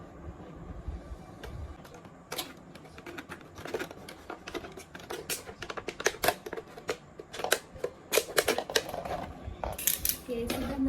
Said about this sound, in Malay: potong 2 bahagian botol mineral